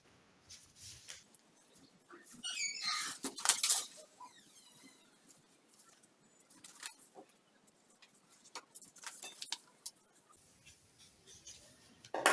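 Chalk or marker scratching along fabric while marking out a flare skirt pattern, a close run of soft strokes and taps, louder in the middle and fainter toward the end, with no voices.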